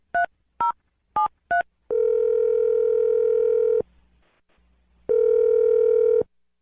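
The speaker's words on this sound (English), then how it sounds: "I'm going to dial the phone number right now" A telephone keypad sends four short tone bursts while a number is dialed, then a steady ringback tone sounds twice, separated by a quiet pause. The line is clear and close, with no talking.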